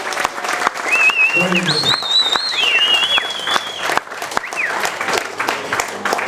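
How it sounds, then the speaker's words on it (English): An audience applauds best man Ryan after his wedding speech, with sustained clapping mixed with voices and a brief spoken remark over the noise. "I think you deserve a big round of applause"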